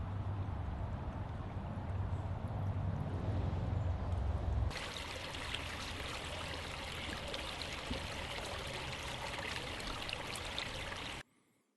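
Creek water rushes steadily, with a low rumble at first giving way to a brighter, fuller flowing sound that continues until it cuts off.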